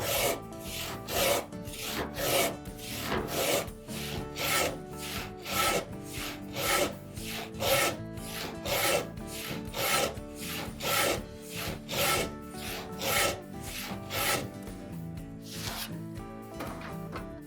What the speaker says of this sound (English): The best part is since I have a kerf already established, the saw is going to follow that path of least resistance.